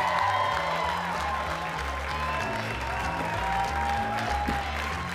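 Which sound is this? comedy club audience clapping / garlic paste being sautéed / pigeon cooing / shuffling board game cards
comedy club audience clapping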